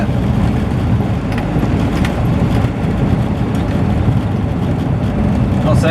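A Morris Marina cruising at about 50 mph, a loud steady engine drone with road and wind rumble from inside the car, continuous throughout.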